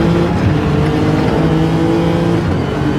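Race car engine in Gran Turismo 7 at the Nürburgring GP circuit, a loud steady drone held at high revs throughout with a slight rise and fall in pitch, close and unbroken.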